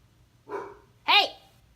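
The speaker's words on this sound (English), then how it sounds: "I hope he's not barking too loud." A dog gives two loud, close barks about half a second apart, the second sharper and higher, with a low hum underneath and no talking.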